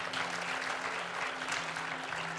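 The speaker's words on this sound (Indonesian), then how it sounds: "Kasih tepuk tangan buat Tuhan malam hari ini." A congregation applauds during a worship night at UW Academy, a soft, continuous patter of clapping with a low steady hum underneath, fairly distant and quiet.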